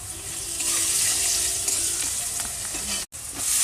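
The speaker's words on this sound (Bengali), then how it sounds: "একটু লবণ আর সামান্য একটুখানি হলুদ দিয়ে আলুটাকে ভেজে নেওয়া হচ্ছে" Potatoes fry with salt and turmeric in a pan, a loud continuous sizzle with light stirring clatter, a brief dropout near the end, and no voices.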